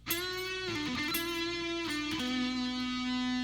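A sustained electric guitar phrase from the second solo of a song, notes sliding and bending between two pitches with a bright, ringing tone, played alone without pause.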